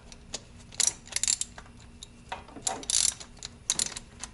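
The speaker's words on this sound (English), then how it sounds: "Loosen these bolts here. These are 12 millimeter." Ratchet wrench clicking while loosening 12 mm bolts on a 16-valve Suzuki Samurai, several short bursts of sharp metallic clicks with pauses between, close and clear, no talking.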